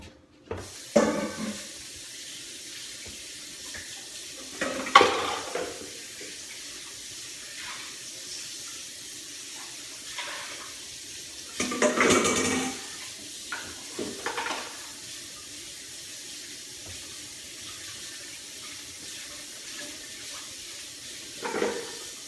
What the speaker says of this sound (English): Let me clean my bowl first.